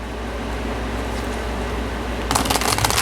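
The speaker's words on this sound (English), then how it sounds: "And 7 more shuffles" Tarot cards being shuffled over a steady low background hum, the shuffle turning into a rapid, crisp riffle of flicking cards in the last second.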